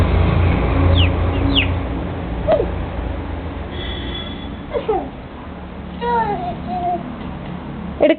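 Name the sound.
chicken clucking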